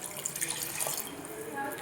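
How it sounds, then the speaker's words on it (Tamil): Water is poured from a cup into a pan of egg gravy, a close, continuous splashing pour lasting under two seconds. "நான் இப்போ வந்து இந்த கப்புக்கு 2 கப் தண்ணி வந்து ஊற்றிக்கிற போகிறேன்"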